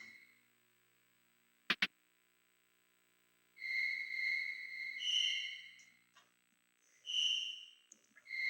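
Haunting crickets chirp in a Final Fantasy 5 game scene, a sharp click cutting the quiet before steady high trilling pulses rise in several bursts, clear and fairly close with no talk.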